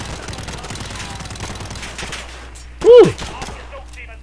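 Rapid gunfire rattles in the Modern Warfare campaign, a continuous stream of shots followed by a player's brief shouted exclamation over the din.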